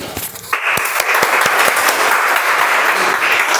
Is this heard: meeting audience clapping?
yes